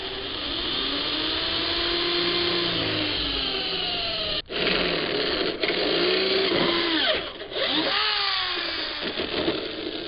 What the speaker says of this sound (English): I'm going to go ahead and drill the pilot holes for this bottom bracket